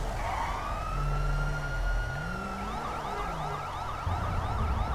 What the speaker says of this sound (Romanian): Și voi aprinde acum sirenele.